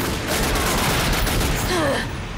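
Shotgun with the Active Pump upgrade in The Darkness II firing repeatedly without pumping, a dense run of blasts blending into a sustained loud roar.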